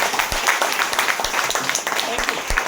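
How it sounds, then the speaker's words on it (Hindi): An audience at a leadership program session claps for the leaders, moderately loud clapping with distinct individual claps standing out from the crowd, with speech mixed in. "आप सभी लीडर के लिए तालियां हो जाए"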